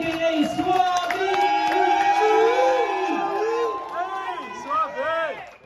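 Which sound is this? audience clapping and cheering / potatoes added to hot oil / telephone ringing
audience clapping and cheering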